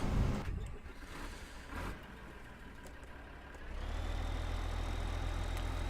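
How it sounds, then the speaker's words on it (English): A tractor engine idles in Farming Simulator 2015 with a low, steady rumble that grows fuller and louder partway through and then holds at an even drone. "we'll take this tractor here around to the shop"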